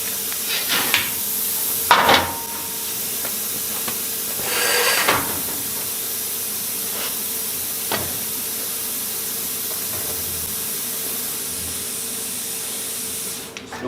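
A Prime Weld Cut 60 plasma cutter cuts through metal with a steady, close hiss and faint hum, broken by several short sharp crackles and bursts of spray that flare and fade over the cut.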